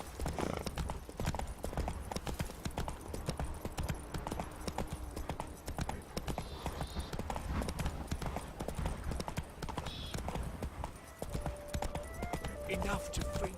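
Horse hooves clip-clop in a steady trotting rhythm while riding in The Witcher 3 on PC, close and continuous under a wash of game ambience, with a brief whinny and a voice speaking near the end.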